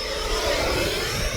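An FMS F-16C 70mm electric ducted-fan RC jet spools up under throttle, a loud, rushing whine that swells and holds steady close by, with no voices.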